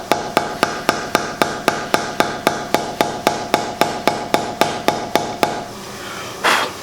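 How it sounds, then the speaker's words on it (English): A hammer taps guitar hardware through a folded cloth while a Les Paul kit is being assembled: about twenty sharp, evenly spaced knocks land in steady rhythm, close and loud, then stop, followed by a short rustle. "just use a normal hammer with a cloth over the top"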